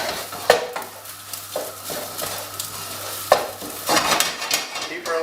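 Egg fried rice sizzles in a hot pan while a utensil stirs and scrapes through it, irregular clanks and scrapes over a steady frying hiss, close and fairly loud, without speech.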